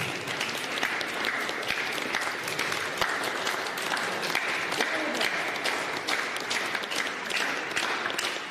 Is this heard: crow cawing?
no